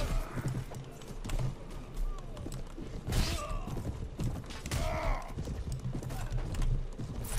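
Horse hooves galloping in the Mount&Blade Warband video game, a steady, fairly loud clip-clop rhythm that runs throughout amid busy game sound, with a possible brief whinny.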